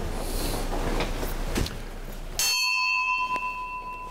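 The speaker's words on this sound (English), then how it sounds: "Ring the bell." A small altar bell rings during a Latin low Mass, a bright ringing tone that sustains and slowly fades after some rustling and shuffling in the church.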